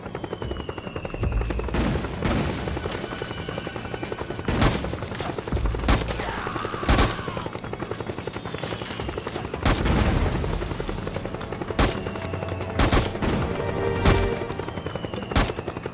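Loud bursts of gunfire and sharp booms crack over a continuous helicopter rotor drone in the video game Metal Gear Solid 4: Guns of the Patriots, with repeated shots scattered throughout.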